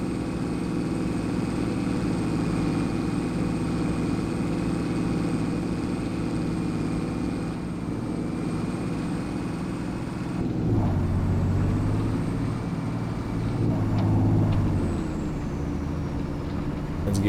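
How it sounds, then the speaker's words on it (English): An overloaded tractor engine runs at a steady drone throughout, with a heavier rumbling surge near the end. "the tractor is much too overloaded"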